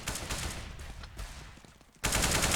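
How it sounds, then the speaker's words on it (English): Counter-Strike (CS:GO) gunfire on the Cache map, rapid automatic shots in dense bursts that fade, then a loud sustained burst of fire near the end, no speech. "Now they've popped some shots over towards that A-bomb site"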